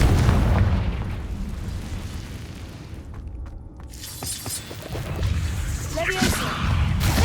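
A Confringo blasting spell explodes in Hogwarts Legacy with a loud, shattering boom and crackle, followed by more spell impacts and bursts, while a voice calls out spell names over continuous game sounds.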